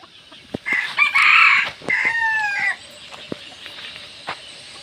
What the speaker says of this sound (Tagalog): Ang daming manok to guys